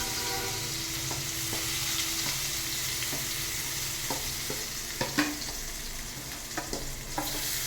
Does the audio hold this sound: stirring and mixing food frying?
yes